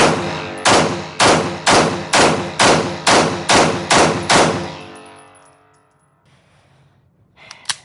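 Nine evenly spaced, loud P211 pistol shots rattle off in a quick steady string, each with a bright crack and ringing tail, then the range falls quiet apart from a faint click at the end.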